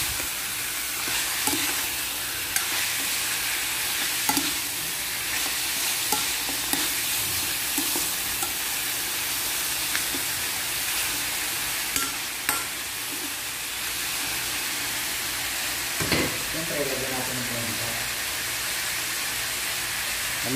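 Pork adobo with tomato paste is stirred in a hot pan. It sizzles steadily and loud, and a spoon scrapes against the pan now and then, with no talking.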